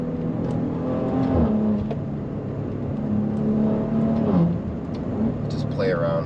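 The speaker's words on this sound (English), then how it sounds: "Just play around with this exhaust all day." A Maserati Levante S exhaust rumbling and revving while driving through corners, a steady engine note that swells and dips under someone talking.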